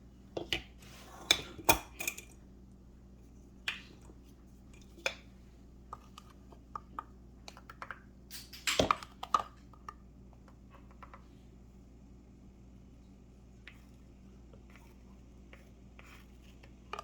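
Ground coffee is scooped into the double filter basket of a DeLonghi espresso machine: sparse, quiet scrapes and light metallic clinks and taps, with a few clustered clicks against a faint background hum.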